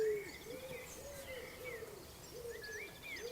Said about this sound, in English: You might be able to hear the birds singing in the trees.